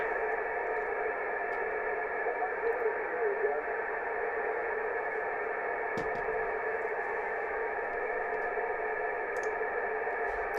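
Weak amateur radio transmission through a band-limited receiver, a steady hiss of static with a faint, garbled voice buried underneath, continuous for several seconds.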